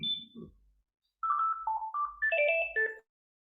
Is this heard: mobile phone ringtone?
yes